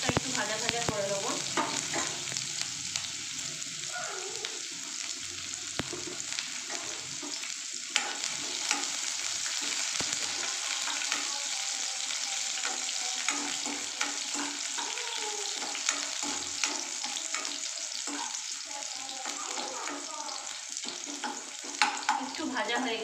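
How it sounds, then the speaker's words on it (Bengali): Onion fries in oil alongside dried red chilli for a masoor dal with radish-green stems, a continuous close sizzle with scraping stirs and scattered pops running throughout, no voices. "পেঁয়াজটা একটু ভাজা ভাজা করে নেবো।"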